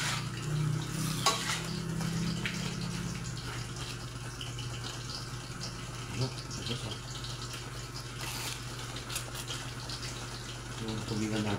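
Chicken and pork stirred with curry powder in a pan, a steady scraping and sizzling with watery, bubbling texture and occasional clinks, under a constant low hum; a voice speaks faintly at times.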